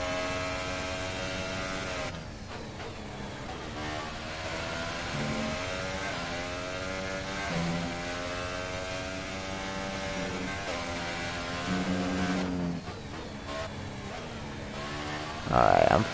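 F1 car engine revving in the F1 2018 racing video game, a sustained loud whining drone with rising and falling pitch sweeps and gear changes, continuous throughout.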